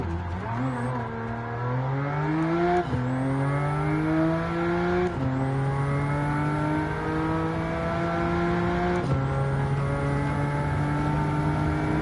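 A hypercar in the racing game Gran Turismo 7 drives and brakes: a loud, steady engine drone rises in pitch through several gear changes, each shift bringing a sharp drop before climbing again, with no voices.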